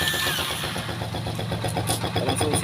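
A Rusi Macho 150 motorcycle engine starts by remote and settles into a steady, rhythmic idle putter. The close, even engine chug runs throughout at moderate loudness.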